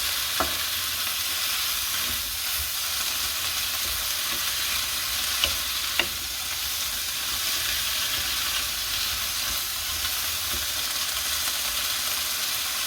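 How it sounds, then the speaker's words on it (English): Steady sizzling and hissing from a hot pan of chokos as added water cooks off and steams them, a continuous close frying sound with a few small pops and clinks, no talking. "And as it cooks off, that will steam those vegetables."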